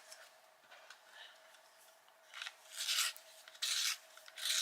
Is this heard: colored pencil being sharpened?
yes